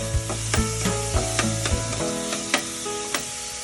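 White onion fries and stirs in a pan with a steady close sizzle, punctuated by about nine regular clinks and scrapes of a utensil against the pan, with no talking.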